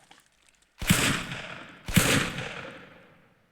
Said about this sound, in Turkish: Silahlar, silahlar.